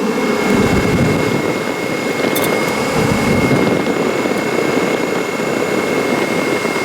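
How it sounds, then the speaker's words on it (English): Two high-performance radiator cooling fans on a DeLorean run steadily, a loud, close, continuous rushing whir that holds without change throughout. "you can hear the fans going"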